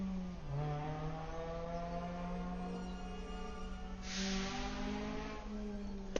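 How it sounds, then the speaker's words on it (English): Car engines revving and droning nearby outdoors, a sustained whining engine tone that rises and falls in pitch, with a brief hiss burst partway through, moderately distant. "I don't understand why cars are making noises like that."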